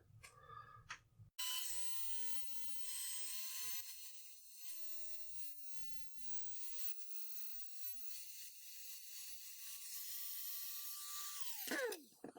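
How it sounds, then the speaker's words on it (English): A high-speed rotary grinding wheel spins up and works on a 3D printed armor part, giving a steady, close, thin high whine with a grinding hiss for about ten seconds before winding down at the end. "I'm actually going to take the grinding wheel and see if I can't flatten it out a bit"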